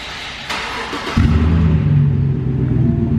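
A straight-piped 2014 Chevrolet Silverado pickup engine turns over and catches, then settles into a loud, deep, throaty rumble that holds steady close by.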